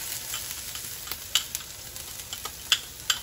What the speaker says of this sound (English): we're gonna sizzle that around a little bit